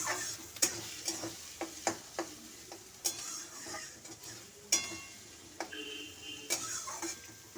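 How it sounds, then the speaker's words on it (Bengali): Onions fry gently in a pan over low to medium gas for hariyali chicken. A soft, steady sizzle runs throughout, broken by sharp clinks and scrapes of a spatula stirring at irregular intervals. "পেঁয়াজগুলো খুব একটা আমি লাল করব না, একটু ভাজা ভাজা টাইপের করে নেব"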